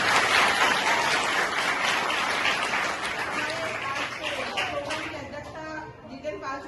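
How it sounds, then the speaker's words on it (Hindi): An audience applauds steadily at a school event honouring top students at a DAV school, sustained dense clapping that thins and fades toward the end, with some faint voices mixed in. "जोरदार तालियां बजाइए।"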